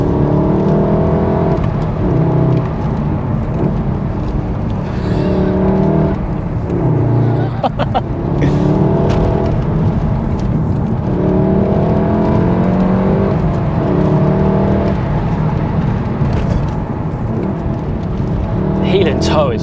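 Engine of a manual VW MK7 Golf R driven with heel-and-toe shifting hums steadily from inside the car, rising and falling with revs and gear changes.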